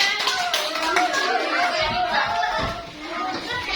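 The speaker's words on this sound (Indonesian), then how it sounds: "Boleh maju ke depan, kasih tepuk tangan teman-teman." Children clapping their hands in a classroom, a brisk patter of claps mixed with kids' voices and chatter.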